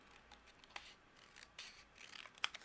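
Scissors snip through cardstock in a cardmaking session, several short, quiet crisp cuts close by with no talking.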